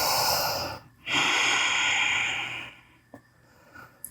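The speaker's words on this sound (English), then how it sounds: "We'll take 3 breaths here. Big inhales through the nose," Deep yoga breathing through the nose in a downward facing dog pose, a long loud inhale then a long exhale, close and alone, followed by quiet with faint soft clicks.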